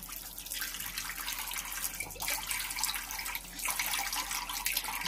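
Steady rush of water from a tap running into a sink while a small boy washes his face in the morning, continuous and fairly close, with no talk over it.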